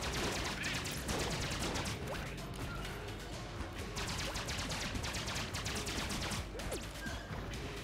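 Gunfire in the video game Enter the Gungeon, a dense, fast stream of rapid shots and crashing impacts running continuously, busy and chaotic at a fairly low level.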